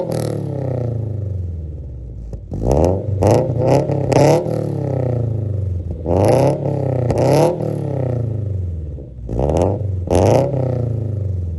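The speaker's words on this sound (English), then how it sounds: "an MXP Comp RS catback system, which sounds absolutely amazing" A Toyota 86 with an MXP Comp RS catback exhaust revs repeatedly, rising and falling in loud throaty bursts over a steady rumbling idle, close to the microphone.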